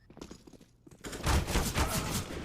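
SMG gunfire in a Counter-Strike match on Mirage, a quiet start followed by a dense burst of rapid shots and bangs, alone without talk.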